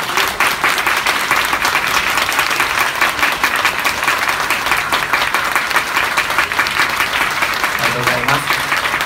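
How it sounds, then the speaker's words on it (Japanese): A theater audience at an idol group results event in Akihabara gives a long, steady round of dense applause, loud and even throughout, with a faint voice surfacing near the end. "グループの皆さんにもう一度大きな拍手をお願いいたします"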